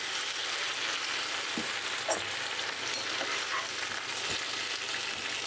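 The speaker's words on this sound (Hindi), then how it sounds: "3-4 मिनट मैंने ढक के आलू परवल को फ्राई कर लिया है" Diced potatoes and pointed gourd fry in oil in a pan, giving a steady, close, even sizzle with a few soft clicks and pops, with no talking.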